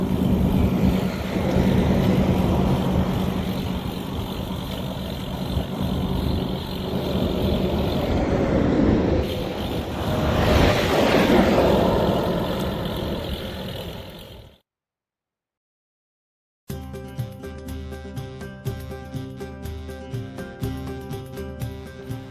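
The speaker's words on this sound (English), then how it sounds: "Give you a feel for what it's like riding on the interstate. Kind of sucks. Really, really loud." A motorcycle cruising on an interstate highway produces a loud, steady roar of wind and road noise for about fourteen seconds. Then comes a short silence, and after it a different, rhythmic mechanical hum.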